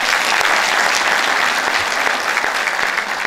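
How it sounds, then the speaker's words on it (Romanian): Loud, continuous applause from a crowd at a party candidate launch event in a Romanian cultural hall, sustained and even throughout with no talk on top. "vreau să o aplaudați pe colega noastră de astăzi"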